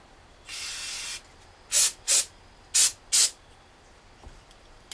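Carb cleaner hisses from an aerosol can onto the carburetor of a 2001 Honda XR400 motorcycle, first in one longer spray, then in four short, sharp bursts in quick pairs, close and loud with quiet gaps between.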